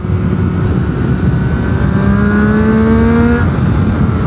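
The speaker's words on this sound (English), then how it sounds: "I love this 675 engine so much" A 2008 Triumph Street Triple 675 motorcycle engine revving hard under acceleration, close and loud, its rising engine tone climbing steadily before easing off, with steady road and wind noise beneath.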